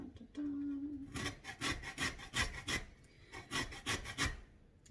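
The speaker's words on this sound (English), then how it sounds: "whenever you're grating citrus" Citrus peel rasping against a box grater in a home kitchen, a fast run of about a dozen rough scraping strokes, close and fairly loud, after a brief quiet start.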